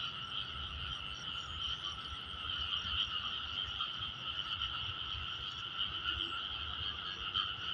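Frogs croak in a steady, dense chorus at night, a continuous high trilling that is fairly faint and distant, with a low rumble of background noise beneath it.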